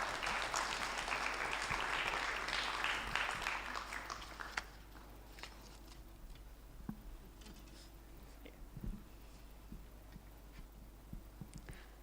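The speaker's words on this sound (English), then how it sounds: "A better hand clap for him" Audience applause at a national stakeholders' forum, a dense burst of clapping that fades after about four seconds into scattered claps and room noise.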